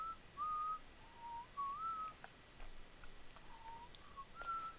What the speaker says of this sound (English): Guess who's doing the whistling now